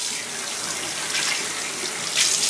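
A bathroom tap runs steadily to rinse a beard, a close, continuous splashing hiss of water into a sink that grows briefly louder and more spattery toward the end.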